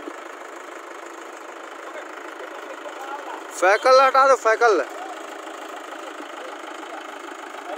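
A Swaraj 834XM tractor stuck in mud idles with a steady low hum throughout, while a man calls out loudly for a few seconds partway through.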